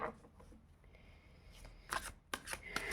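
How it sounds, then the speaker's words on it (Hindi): Tarot cards being shuffled, with a few cards slipping loose and falling: soft papery riffles and brief flicks, sparse at first, then several crisp close bursts near the end, with no talking. "फिर से 2 कार्ड गिर रहे।"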